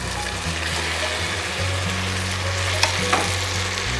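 Cauliflower fries in manchurian sauce in a pan while being stirred. A steady, close sizzle runs throughout, with scraping stirs and a couple of sharp clinks from the utensil.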